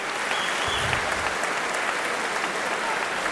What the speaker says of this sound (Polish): Zasłużone brawa dla obydwu.